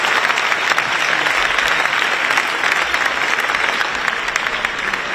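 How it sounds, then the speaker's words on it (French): An audience at a Paris 2024 Olympics one-year countdown ceremony applauds loudly, a dense continuous patter of many clapping hands that fills the space and stays steady throughout. "Grand applaudissement."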